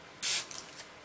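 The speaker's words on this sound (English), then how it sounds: "just take a spray bottle and spray some water" A handheld spray bottle mists water onto a canvas being worked in acrylic paint, giving one sharp, loud hissing spritz, then a couple of fainter trailing puffs, close by with no talking.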